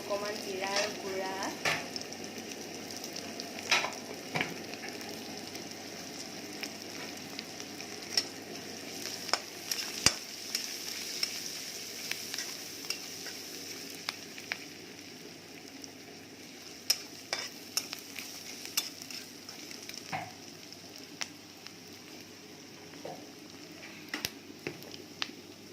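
Fish masala curry spices with cumin powder frying in a pan while being stirred, steady soft sizzle under repeated scraping and clicking stirs, close and moderately quiet.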